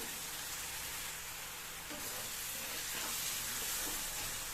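Steady sizzling and frying of Ashoka halwa in a hot pan, with faint scraping of continuous stirring running through the whole stretch, fairly close and continuous.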